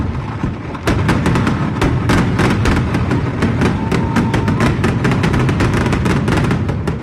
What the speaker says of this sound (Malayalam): രണ്ടാമത് പാറമേക്കാവ് വിഭാഗത്തിൻ്റെ സാമ്പിൾ വെടിക്കെട്ടാണ് നടന്നത്.